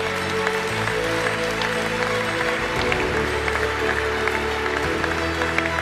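Steady audience applause at a national canoeing awards gala, continuous clapping from a crowd mixed with background music tones and a low hum.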